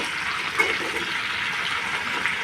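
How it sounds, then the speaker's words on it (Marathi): Capsicum sautéing in oil in a pan, a brief, steady, moderately loud sizzle heard close and without speech. "तेलात छान मी शिमला मिरची परतून घेते।"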